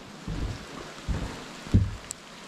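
Rain patters outdoors around a woodland homestead cabin during fallen-tree clearing, a soft steady hiss broken by a few heavier thumps and splashes nearby.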